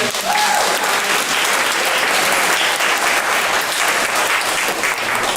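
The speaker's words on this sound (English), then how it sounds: "Will you please give him a round of applause?" Audience applause at the ACLU Wisconsin annual meeting, a dense, steady wash of many hands clapping that stays loud and even throughout, with no talk over it.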